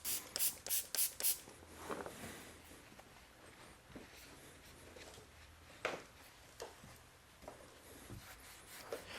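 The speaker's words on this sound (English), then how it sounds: "for the tires, we're going to use Clean by Pan the Organizer, his tire dressing" Tire dressing is applied to low-profile car tires, with quick bursts of spray at the start followed by faint rubbing and wiping sounds and occasional soft taps, quiet and close.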